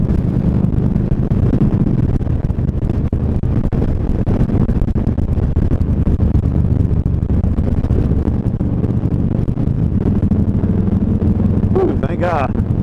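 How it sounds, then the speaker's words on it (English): A strong crosswind buffets a motorcycle as it crosses a high bridge, producing loud, continuous roaring wind noise against the microphone with low engine rumble underneath and a voice talking over it. "having to deal with some very crazy crosswind right now going across this high bridge"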